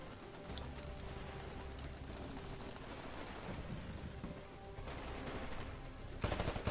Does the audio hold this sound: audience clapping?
no